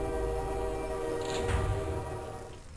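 A train rumbles along in the shooter game Blood, its horn sounding in a sustained drone over steady rolling rail noise, loud and continuous with no speech.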